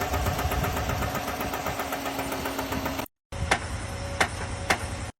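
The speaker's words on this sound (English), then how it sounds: "That is a motor that is on its way out." A failing engine in a new car runs with a steady, rough mechanical drone and an uneven knocking undertone, cuts out briefly, then resumes with a few sharp ticking clicks.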